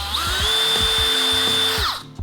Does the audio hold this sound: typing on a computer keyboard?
no